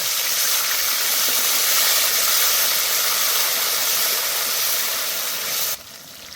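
Water poured into a hot pan of ginger paste and half-ground green chili erupts in a loud, steady steaming hiss that holds for several seconds, then drops abruptly to a quieter simmer.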